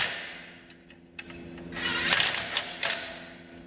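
A big Earthquake XT power tool cinches bolts on a Badland 12k winch receiver hitch mount, giving a few short mechanical whirring and ratcheting bursts that grow louder near the end, close and alone.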